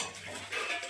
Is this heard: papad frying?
yes